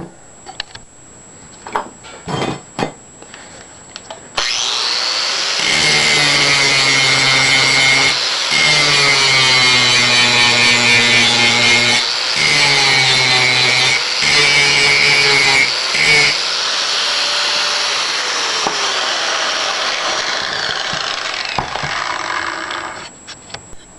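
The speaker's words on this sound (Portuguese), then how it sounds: "dando acabamento nessa solda que foi feita aqui. Mas isso aqui eu vou fazer com lixadeira e esmeriladeira" A loud, continuous angle grinder whine smoothing a weld on steel angle iron, steady for long stretches with a few short breaks, no talking.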